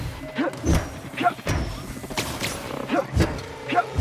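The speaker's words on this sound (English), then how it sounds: "Or this giant melee weapon." Heavy melee weapon blows landing in The Outer Worlds combat, a series of dull thumping impacts spaced irregularly, with a voice talking between and over them.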